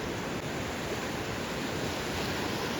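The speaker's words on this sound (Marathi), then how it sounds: "पाणी येत आहे, लाटा येत आहेत" Steady broadband roar of surf along the Malvan coast in Konkan, heard from a boat, with no distinct breaks, a constant washing rush close to the microphone, no voices.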